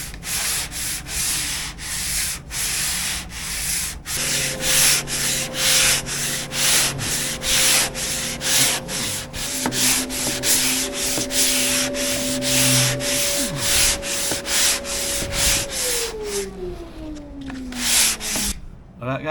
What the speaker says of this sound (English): we're gonna sand it with 80 grit sandpaper again